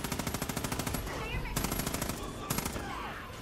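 A light machine gun fires in Far Cry 5, in rapid bursts of automatic gunfire broken by short pauses. It is loud and up front.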